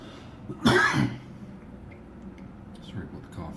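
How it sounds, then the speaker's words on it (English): A single loud, harsh cough bursts out close to the microphone from someone reading a book aloud, followed by quiet room tone and a softer throat sound near the end. "Sorry about the cough in there."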